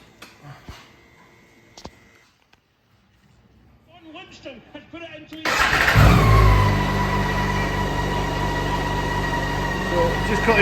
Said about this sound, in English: Just a wee video of the bike being started up from cold.